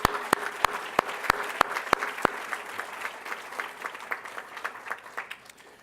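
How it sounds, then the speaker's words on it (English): Applause from the audience at a volunteer awards lunch: crisp, close individual claps ring out sharply at first, then soften into a looser, lighter patter that trails off. "Another round of applause."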